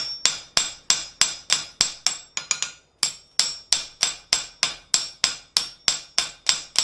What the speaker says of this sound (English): we're going to use a fairly small hammer to get in there and peen that down